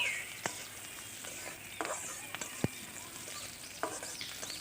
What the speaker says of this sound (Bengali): পেঁয়াজ রসুনটা প্রথমে একটু করে ভেজে নেব